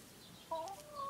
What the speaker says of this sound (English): There's about 7 chickens in there, 6 hens and a rooster.